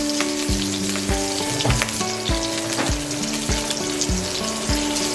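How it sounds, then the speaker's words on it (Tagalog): Chopped onions fry and sizzle in a pan, a close, steady hiss broken by regular stirring knocks roughly every half second. "Antayin natin mag-brown bago yung sibuyas para mabango."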